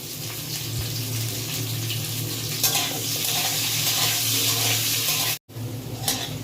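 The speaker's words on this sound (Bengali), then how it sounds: "একটু লাল লাল করে ভেজে নেবো আলুগুলোকে।" Potato pieces frying in hot oil in a pan, a steady, close crackling sizzle with a low hum beneath, briefly cut by a moment of silence near the end.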